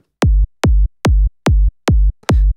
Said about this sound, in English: Kick drum meaning that it's just a sine wave sweep that sounds kind of like this.